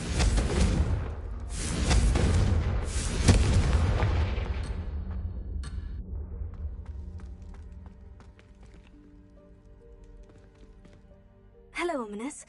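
A Confringo blast spell goes off in Hogwarts Legacy with several loud, booming bursts in the first few seconds that decay into a fading rumble, followed by a short swirling magical sound near the end, all under occasional speech.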